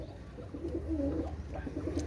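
Red-necked Benaras pigeons coo softly at close range, a few low rolling coos repeating over a faint steady background hum.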